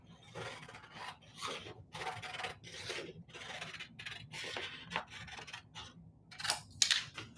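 Scissors cutting through craft material in a single straight cut, a series of quiet, rhythmic rasping snips at close range, evenly spaced with brief pauses, over a faint low background hum.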